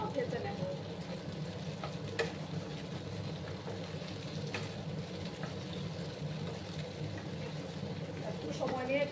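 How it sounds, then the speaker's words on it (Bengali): Flat beans fry in a spice paste with a steady, moderate sizzle and occasional stirring scrapes, continuing evenly throughout while someone talks over it. "শিমগুলো ভেজে নেব।"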